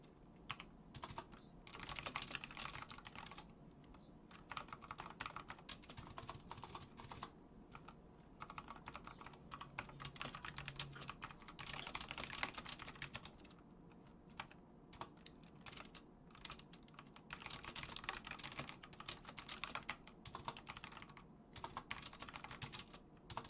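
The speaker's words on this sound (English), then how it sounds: "My fingers hurt from typing, guys." Rapid typing on a computer keyboard goes on for over twenty seconds, a dense, busy clatter of keystrokes with brief slower stretches, quiet and heard with no talk.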